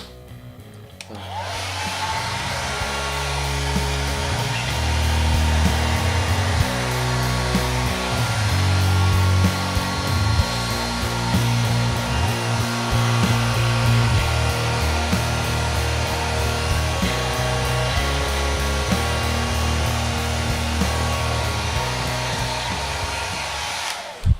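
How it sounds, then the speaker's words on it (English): Hair dryer blow drying a beard while it is brushed down, a loud continuous close roar with slight shifts in pitch as the airflow moves, running alone for the whole stretch. "as I blow dry it, I brush it down"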